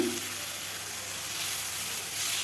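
Ridge gourd and potato fry in a pan, giving a steady, fairly soft hiss of sizzling that holds evenly throughout without breaks.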